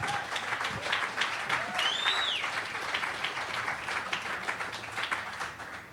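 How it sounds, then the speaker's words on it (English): Audience applause at a lecture in London for David Rodigan, steady moderate clapping from a crowd that continues throughout, with a faint whistle early on. "I think that gets another round of applause."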